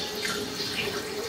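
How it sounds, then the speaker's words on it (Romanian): Cold tap water runs steadily into a pot being filled to boil chicken, a continuous, close rush of water with no break and no talk over it. "Acum punem apă rece."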